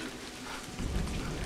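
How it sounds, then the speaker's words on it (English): Steady rain patters in a dense hiss in the Scottish Highlands game A Highland Song, growing heavier and louder after the first moment, with no voices. "But it's raining now."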